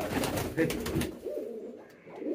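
Pigeons coo in a loft during rainy weather, low soft throaty calls after a burst of louder flapping or rustling, close by and moderately quiet.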